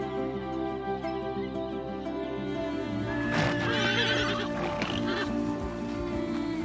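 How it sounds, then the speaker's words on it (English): Wild brumbies neigh and whinny around a waterhole in the West MacDonnell region of the Australian outback. A loud, shrill whinny rises midway over a steady wild backdrop, with occasional hoof clops. "the horses were set free to join the wild herds of brumbies that roam the West MacDonnell region"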